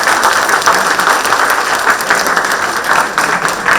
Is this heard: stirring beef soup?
no